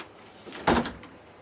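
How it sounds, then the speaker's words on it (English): A door swings open with a single sharp knock-and-creak burst, close and loud against a quiet background, fading quickly without any talking. "this door swung wide open"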